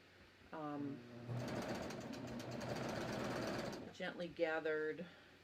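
A serger with differential feed set to 2 runs along a fabric edge in a steady rapid mechanical whir, with a person talking before and after the stitching.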